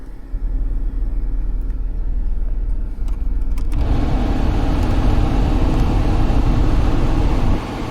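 A petrol car engine idles in winter to warm up, giving a steady, loud, close rumble that swells heavier partway through and holds on, with no one speaking.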